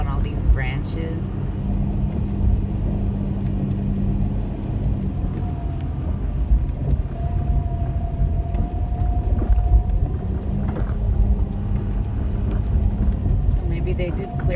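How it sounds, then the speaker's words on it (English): A car rolls over fallen branches on a road after a windstorm, giving a constant low rumble with scattered cracks and crunches from the tires. A person talks over the driving noise throughout. "It's so weird when you drive on all these branches."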